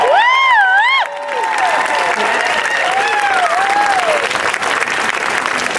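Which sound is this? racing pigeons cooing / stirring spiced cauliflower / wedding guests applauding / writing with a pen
wedding guests applauding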